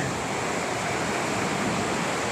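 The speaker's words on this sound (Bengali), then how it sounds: "তো পানির জোরটা আপনারা দেখলে বুঝতে পারেন যে কেমন পানি হচ্ছে।" Rushing floodwater at the DVC dam in Pandua, a dense, steady roar of turbulent water that runs without a break and with no voices.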